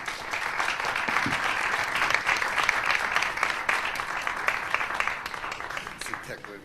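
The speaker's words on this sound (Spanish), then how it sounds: "les pido un aplauso" A conference audience gives a round of applause for a doctor about to give his lecture, a sustained, moderately distant clapping from a full room with talk running over it.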